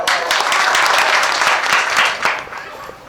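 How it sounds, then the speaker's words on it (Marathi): An audience at a kirtan devotional gathering claps together in a dense burst of applause, loud and close at first, then thinning and fading toward the end. "हा, टाळ्या वाजवा."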